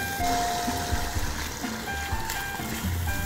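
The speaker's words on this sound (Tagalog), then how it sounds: "Buhos na natin yung sabaw." Broth pours into a pot of sautéed onion, garlic and sliced offal for Batangas goto, a steady trickling splash under a faint background hum, with no talk.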